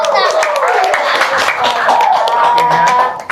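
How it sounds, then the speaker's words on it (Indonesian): Applause and clapping from people in a podcast studio, a busy, close patter of hands mixed with cheerful voices talking over it, continuous and fairly loud before cutting off. "Tepuk tangan."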